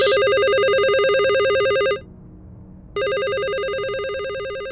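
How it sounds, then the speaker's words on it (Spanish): A telephone rings close and loud with a steady electronic tone, sounding for about two seconds, stopping for a one-second pause, then ringing again, with no voices. "Estaba tan concentrado en la historia que mi teléfono me sobresaltó."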